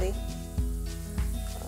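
Crispy potatoes fry in a pan with a steady close sizzle, broken by two brief clinks or scrapes of a utensil about half a second apart.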